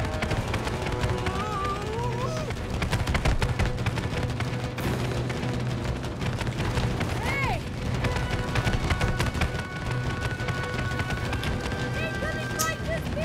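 Bursts of gunfire crackle through a busy soundtrack in the video game It Takes Two, mixed with hoofbeats, music and speech, staying loud and dense throughout.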